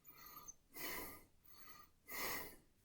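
Deep belly breathing for holotropic breathwork: two slow, full airy breaths rush in and out, close and quiet, with soft pauses between them.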